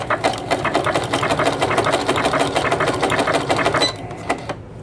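Sewing machine stitching a decorative patchwork, or faggoting, stitch for bobbin work: a loud, rapid, rhythmic needle clatter that runs steadily, then eases off near the end.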